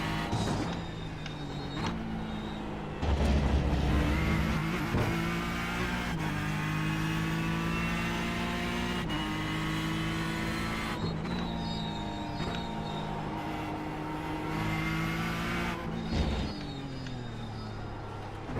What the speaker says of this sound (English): You are witnessing my first lap in this car in probably 2 years.